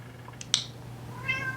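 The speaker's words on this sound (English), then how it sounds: "My cat just came home." A domestic cat meows indoors, with two short, close calls followed by a longer rising meow, heard clearly over faint room hum.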